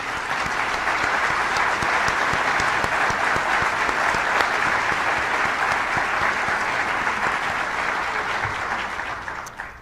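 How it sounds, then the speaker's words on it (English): Sustained applause from a conference audience for award and length-of-service recipients, a steady dense wash of clapping lasting about ten seconds and fading slightly at the end. "Let's show our appreciation with a round of applause for all of our award recipients and length of service recipients."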